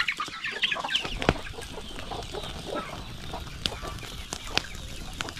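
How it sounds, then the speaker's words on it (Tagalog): Chickens and small chicks at a rural hut in the province cluck and peep in a busy scattered chorus, with occasional sharp calls and a few wing flaps, close by and without speech. "marami tayong mga manok, yung mga maliit pa. Sisiw, yung marami"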